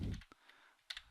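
A few quick keystrokes on a computer keyboard, soft and close, with short clicks separated by brief quiet gaps.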